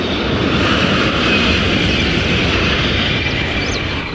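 A TGV V150 high-speed train at record-run speed sends a broad, steady roar that holds loud for several seconds, like rushing wind, with no voices over it.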